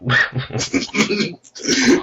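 A person mimics a small dog, like a Jack Russell, howling, producing a series of close, loud, wavering whiny yowls in short bursts with a brief pause before a final longer cry.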